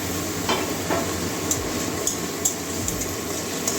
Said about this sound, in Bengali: এবারে আদা রসুনের পেস্টটাও দিয়ে দিচ্ছি